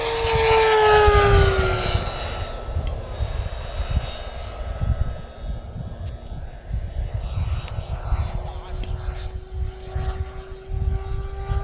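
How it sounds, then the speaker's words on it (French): A Pilatus PC-21 turboprop in flight just after gear retraction, a steady loud engine drone with a high whining turbine tone sliding downward, holding on as a continuous close roar. "vous pouvez entendre le réacteur, la turbine"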